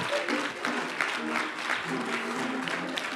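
Church congregation clapping hands in praise during a service, a continuous mass of applause with voices and cheers mixed in, moderately loud and sustained.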